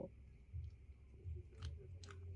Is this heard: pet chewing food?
yes